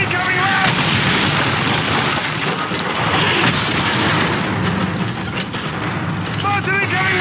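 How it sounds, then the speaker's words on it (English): Mortar shells land and burst around the player during a Call of Duty: Modern Warfare 3 battle, giving loud, dense booms and debris over a constant din of combat, with shouted voices in between. "Mortar incoming! Mortar incoming, rats!"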